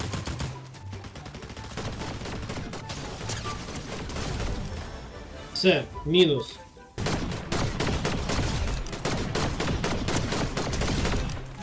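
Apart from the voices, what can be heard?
gunfire in the Fortnite video game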